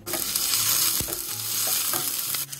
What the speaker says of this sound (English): I'm just adding half of a small onion that I've diced up.